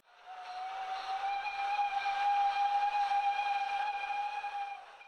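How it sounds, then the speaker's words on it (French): A steam whistle blows one long, steady, harmonic blast that swells in and fades out over several seconds, with no other sounds around it. "La locomotive lâcha un sifflement."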